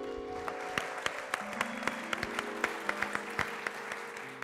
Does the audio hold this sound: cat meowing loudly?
no